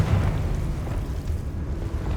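A Confringo fire spell explodes in Hogwarts Legacy, a deep rumbling boom that rolls on without a break for the whole stretch, heavy in the low end with no voices over it.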